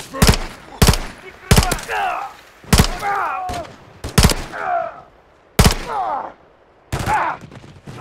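Single gunshots in the MW3 campaign, a first-person shooter, sounding in sharp separate cracks roughly every second, with voices talking between the shots.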